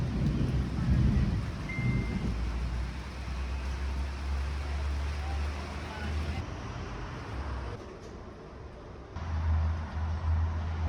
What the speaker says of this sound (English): And now we've got a crazy storm today